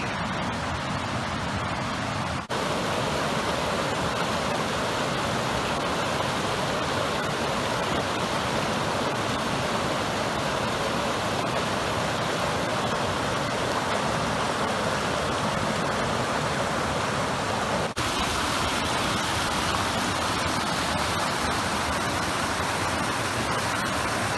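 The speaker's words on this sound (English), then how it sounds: "right next to the road is just a nice little waterfall coming down the side of the mountain" A small mountain waterfall beside a road on Weston Pass, Colorado: a steady rushing of falling water, broad and continuous, close and fairly loud with no voices.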